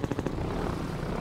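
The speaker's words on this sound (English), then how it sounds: "I hear a chopper." A helicopter flies overhead in the video game Half-Life 2, a steady rotor chop that starts pulsing and settles into a continuous loud drone.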